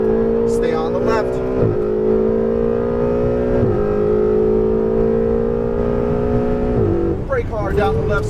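A Ferrari 488 GTB accelerates at full power in Las Vegas. Its engine climbs in a loud, steady drone with sharp gear-shift drops, close and dominant, while a voice speaks briefly near the end.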